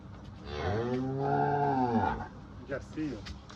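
A Jersey cow at a livestock market lets out one long, loud, drawn-out moo nearby, followed by quieter background sounds and brief voices.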